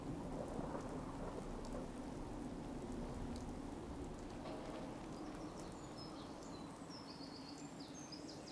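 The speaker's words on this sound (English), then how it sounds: "Hope this rain lets up soon." Steady heavy rain pours throughout with a deep rumble of thunder underneath, constant and close, with a few faint bird chirps high above, in the video game Fallout 4.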